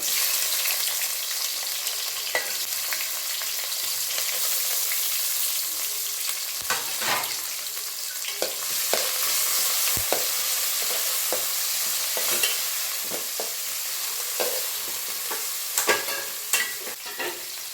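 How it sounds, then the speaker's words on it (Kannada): Chopped onion, curry leaves and three chillies sizzling in hot tempering oil with spluttering mustard seeds for a masala okra sambar, a continuous bright hiss with scattered pops and stirring knocks, close and loud with no talk. "ಸಾಸಿವೆ ಚಟ್ಪಟ್ ಅಂತಿರುವಾಗಲೇ ಒಂದು ಸ್ವಲ್ಪ ಈರುಳ್ಳಿ, ಕರಿಬೇವು ಸೊಪ್ಪು, ಒಗ್ಗರಣೆಗೆ 3 ಮೆಣಸಿನ್ಕಾಯಿ ಎತ್ತಿಟ್ಕೊಂಡಿದ್ದೇನೆ, ಹಾಕ್ಕೊತಾ ಇದ್ದೀನಿ"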